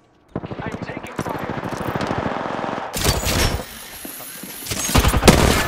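Rapid automatic gunfire in a first-person shooter video game during a 2v3 match, a dense burst of repeated shots followed by louder bursts and impacts, with players talking over it.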